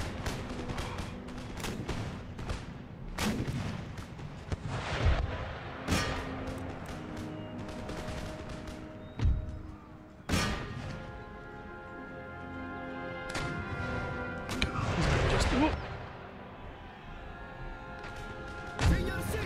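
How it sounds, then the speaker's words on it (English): Artillery fire in an Empire Total War battle: scattered booms and sharp cracks at irregular intervals over a steady rumbling battle din, with a voice talking throughout. "It's a lot of artillery fire here."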